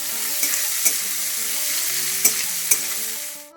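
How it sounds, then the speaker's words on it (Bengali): Chopped onion hitting hot oil with bay leaves, whole cumin and crushed garam masala, a steady loud sizzle with a few sharp stirring clicks, fading out at the end. "আর এবার কুচি করা পেঁয়াজটাও দিয়ে দিচ্ছি"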